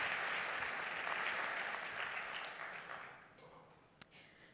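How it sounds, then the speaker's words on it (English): Round of applause from an audience at an alliance's annual convening, broad and steady at first, then thinning and fading over the last seconds with a single sharp clap near the end. "Give yourselves one more round of applause for all that you have accomplished as an alliance."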